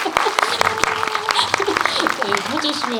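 Audience claps at a film screening Q&A in a cinema, sharp scattered hand claps rising over a room while a voice talks over the applause.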